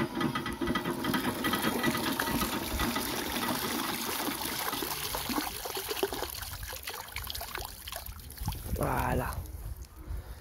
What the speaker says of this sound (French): Donc on va les laver.